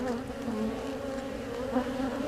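Honeybees inside an open hive during an early-spring inspection and queen marking hum in a steady, dense buzz close by, holding level throughout with no talk over it.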